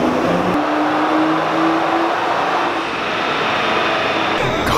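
A 2010 or 2016 Nissan GT-R engine drones steadily on a dyno, a loud sustained roar with a slowly rising tone across the whole stretch.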